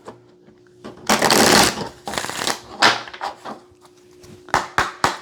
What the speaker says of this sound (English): I'm going to give it a quick shuffle.